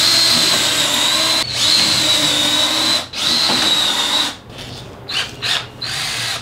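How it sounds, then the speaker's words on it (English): A power drill bores pilot holes for screws into a wooden table, giving three whining bursts that each stop abruptly, followed by a few short, quieter spins near the end. "Now I'm about to drill a bunch of pilot holes for screws to go into this thing"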